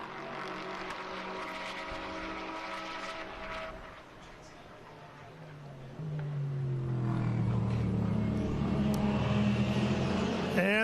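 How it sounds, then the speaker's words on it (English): Callaway Corvette race car pulling away at the green flag at Virginia International Raceway, a loud engine note rising in pitch as it accelerates, joined by more roaring cars toward the end. "Underway, and the Corvette thunders off to the lead."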